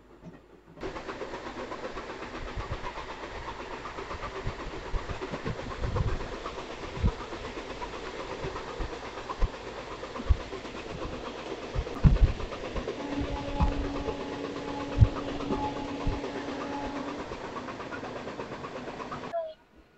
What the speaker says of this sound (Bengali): আমাদের ট্রেন এখন এসে পৌঁছালো বেরো স্টেশনে